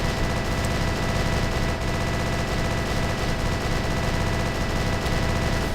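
Relentless automatic gunfire from a gun in the Roblox game Monster Islands, a dense, unbroken stream of loud rapid shots at a steady rhythm with no talking.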